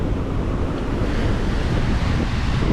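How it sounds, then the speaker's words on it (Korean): Strong surf crashes continuously on a remote beach at the northern end of Koh Phangan island, Thailand, a dense, loud roar of breaking waves mixed with heavy wind buffeting, with no voices. "오늘 파도가 세게 친다는 걸."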